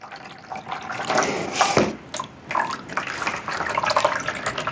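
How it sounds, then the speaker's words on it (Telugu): Water pours steadily into a container holding diaper material, a continuous splashing gurgle with uneven surges and small drips, close by and moderately loud. "ఇంకా పోస్తూనే ఉన్నా నేను నీళ్ళు"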